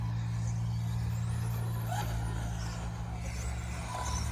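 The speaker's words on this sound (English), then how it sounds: "There is another car going around the track which doesn't sound quite so smooth." A vintage race car engine drones steadily as it circles a track during a shakedown warm-up, a rough, uneven low rumble held at a constant level from a moderate distance, with no voices.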